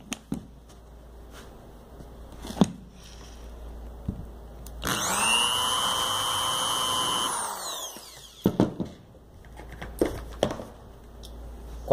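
An 8mm countersink reamer cuts into material for a screw, one loud whirring burst of about three seconds, with scattered clicks and taps of handling before and after.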